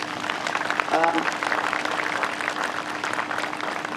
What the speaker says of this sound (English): a quick round of applause for Brigadier, please